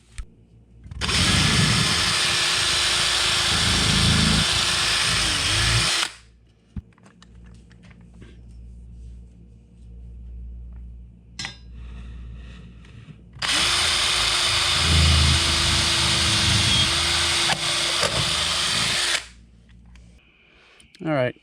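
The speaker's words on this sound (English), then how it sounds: "got the first pilot hole drilled through the wall" A power drill bores a pilot hole through a wall for a wood stove cold air intake, with two long, loud, steady whining runs separated by a quiet pause, a voice speaking briefly between them.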